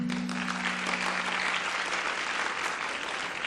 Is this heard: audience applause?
yes